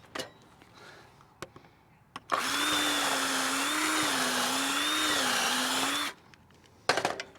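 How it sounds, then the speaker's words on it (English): A power drill bores a hole through a wooden fence board held in a jig, a loud steady whine lasting about four seconds that wavers slightly in pitch, with faint clicks and handling noises before and after. "Drill a hole, then move on to the next."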